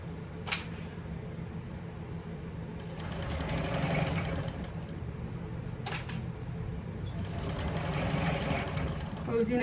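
A sewing machine stitching around a handbag lining seam runs in two bursts of rapid mechanical whirring separated by a pause, with sharp clicks at the starts, close and fairly loud.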